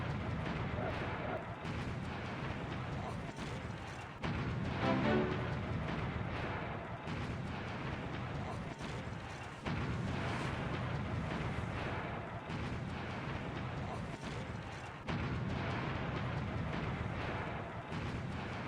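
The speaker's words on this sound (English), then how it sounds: "Pounding broadsides from Constitution's skilled gun crews bring down the English ship's mizzenmast" Cannon broadsides and musket fire exchanged between sailing warships in a video game, a steady rumble of booming artillery and crackling gunfire under a narrator's voice.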